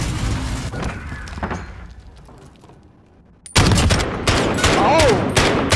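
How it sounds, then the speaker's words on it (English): Loud, close bursts of rapid gunfire in a 3v3 video game gunfight: sporadic shots fade toward quiet, then a sudden dense fusillade erupts and keeps hammering to the end. "Why are the bullets so damn loud?"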